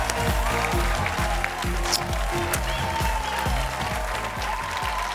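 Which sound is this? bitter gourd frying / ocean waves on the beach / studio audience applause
studio audience applause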